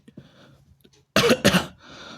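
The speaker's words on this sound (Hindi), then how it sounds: "सॉरी बीच बीच में अगर मैं खांस ले रहा हूँ तो" A man who is feeling unwell gives a pair of harsh, loud coughs close by after a quiet stretch, followed by a faint breathy tail.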